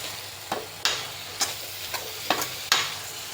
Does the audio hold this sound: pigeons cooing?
no